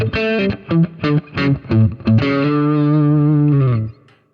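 Electric guitar playing a simple Texas blues lick through Axe FX effects with distortion and chorus, a run of sharp picked notes ending on a long sustained ringing note that fades out.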